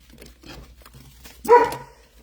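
A single dog bark bursts out loud and close, a short sharp yap standing alone after quiet rustling in a room.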